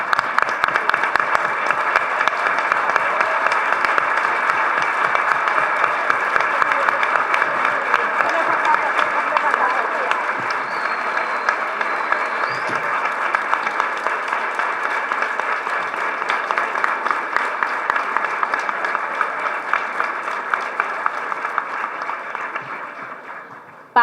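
A university audience gives advisors and students a long, sustained round of applause at an inaugural academic lecture, dense and even for over twenty seconds before tapering off at the end.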